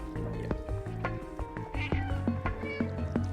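Cat meows ring out from the video game Stray, repeated short cries over layered game music with plucked tonal notes and steady background texture.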